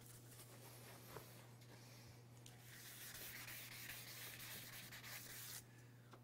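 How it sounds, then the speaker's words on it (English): Sandpaper worked by hand across a rusty table top, a soft, steady rubbing and scraping in continuous strokes, fairly quiet and close, with a low electrical hum underneath. "keep working with the sandpaper, and get this top cleaner yet than it is right now"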